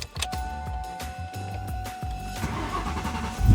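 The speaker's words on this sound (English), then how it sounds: "So we're going to start the car" A Terminator Cobra car engine cranks with a rapid rhythmic chugging, then catches and rumbles louder near the end, heard up close.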